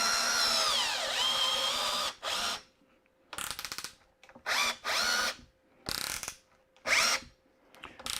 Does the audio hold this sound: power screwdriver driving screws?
yes